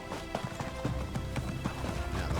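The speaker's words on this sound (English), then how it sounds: "We're a bit faster on our horse now." Horse hooves clip-clop in a quick, even rhythm at a brisk trot in the video game Elder Scrolls Online, close and moderately loud, with no talking.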